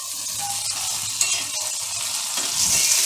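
Green chillies roasting in a pan, a loud close crackling sizzle with a spatula knock near the middle and stirring that swells toward the end, with no voices.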